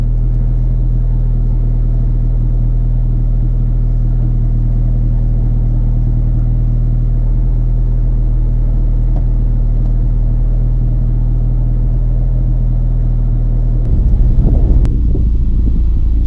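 A 9th gen Honda Civic Si with a cat-less Full-Race header exhaust idles with a steady, deep, droning rumble, close and loud, ending in a brief rougher burst of noise.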